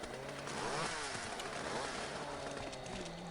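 A chainsaw weapon from a Killing Floor mod video game revs with a rough, buzzing motor drone that rises and falls steadily for a few seconds, with no talk over it.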